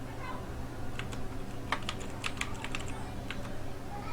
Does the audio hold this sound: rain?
no